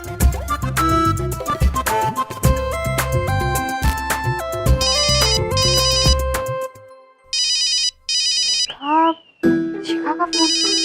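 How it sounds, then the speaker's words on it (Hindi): A phone's electronic ringtone chirps in short repeated bursts inside a household scene in a Hindi comedy. It follows a stretch of louder melodic music and ends with a warbling trill. "फोन उठाइए, फोन बज रहा है"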